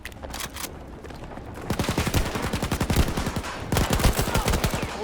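Sustained automatic gunfire in Battlefield 2042, fast rhythmic bursts of shots rattling loud and close, intensifying after a brief lighter opening.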